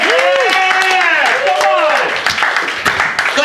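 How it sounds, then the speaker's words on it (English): An audience at an open mic comedy night in Melbourne, Florida, claps for a comedian, a scattered burst of applause beneath loud, animated talk that dominates the foreground. "clap it up for him"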